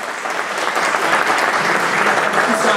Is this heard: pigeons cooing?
no